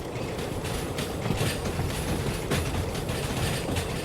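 A steam train rolls along in the Derail Valley railway game, with a continuous rumble and rattle of wheels and cars, fairly loud and close, with no speech.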